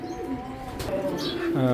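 Pigeons coo nearby in soft, throaty calls, with a rising coo at the end; a voice is partly heard alongside.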